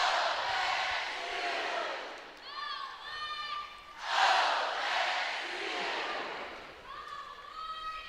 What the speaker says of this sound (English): Ariana Young leading that cheer there before she gets ready for her floor routine